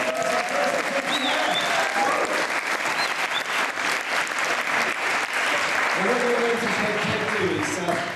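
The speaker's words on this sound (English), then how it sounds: "Excellent, big round of applause there." A crowd claps steadily for several seconds at a children's tennis demonstration at the National Tennis Centre, dense and sustained applause with some voices mixed in.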